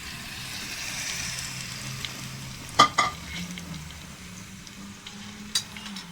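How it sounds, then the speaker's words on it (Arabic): Zucchini pieces sautéing in butter or ghee in a pan give a steady soft sizzle, with a couple of sharp utensil clinks against the pan partway through; no one speaks. "هشوحها في قلب الزبدة أو السمنة زي ما انتوا عايزين"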